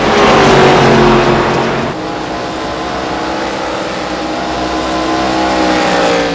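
ARCA Menards Series stock car engine on the Phoenix oval in iRacing, a loud sustained roar with a strong high whine that drops slightly near two seconds, then holds steady at full throttle throughout.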